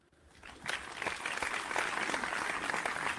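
An applause sound effect plays on a talk radio show, a burst of crowd clapping that swells quickly from quiet and keeps a dense, steady patter.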